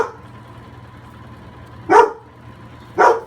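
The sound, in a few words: puppy barking in the background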